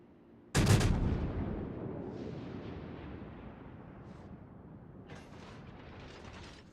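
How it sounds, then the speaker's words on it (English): A loud warship gun salvo in World of Warships from a Nürnberg cruiser, one heavy booming blast followed by a long rumbling roll that fades slowly, with a brief second rumble near the end. "So I fire at him there, that was a pretty good salvo"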